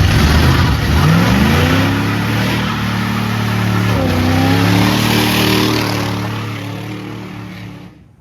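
A stock 1979 Chevrolet Camaro Z28 with a 350 V8 smog engine revs up loudly close by. The pitch climbs, eases off and climbs again, then the sound fades out at the end.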